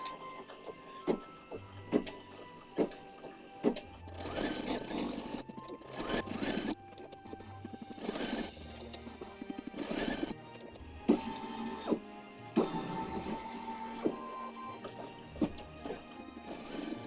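An embroidery or sewing machine stitches a design in lavender thread, giving fast rhythmic mechanical clatter in bursts with sharp periodic knocks, close by and fairly quiet.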